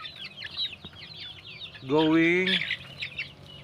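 Pure Darag native chickens, about three months old, clucking and chirping in a flock, with one louder, drawn-out call standing out near the middle; someone speaks briefly.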